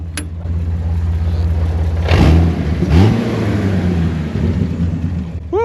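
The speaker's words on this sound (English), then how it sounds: "And she's idling pretty healthy today." Honda CR-V engine runs in a forest setting with a steady low rumble, then a couple of brief revs swell and fall back to a loud, even idle.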